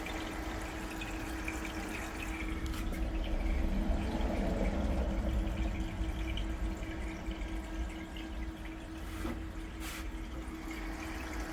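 An aquarium cooling fan gives a constant mechanical hum with a steady tone over churning, bubbling aquarium water, continuous and fairly close, with no talking.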